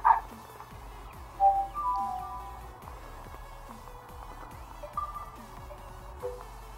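A cartoon dog in the Nintendogs game, played through a Nintendo DS emulator on Android, gives a few short yips, barks and whimpers over soft looping game music, loudest near the start and around the second and fifth seconds.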